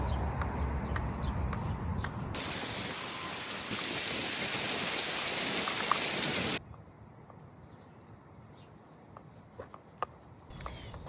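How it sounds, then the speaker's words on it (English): Torrential downpour during a walk, a loud, dense hiss of rain that fills the first six seconds, then drops sharply to a quieter patter with occasional close taps and drips. "We had a nice little torrential downpour."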